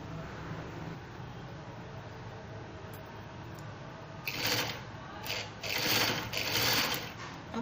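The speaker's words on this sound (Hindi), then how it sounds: "इस पे किनारे की सिलाई लगानी है तमाम राउंड में" A sewing machine runs in short bursts, then a longer stretch, as it stitches piping around the rounded edge of shirt fabric, close and fairly loud against a quiet room.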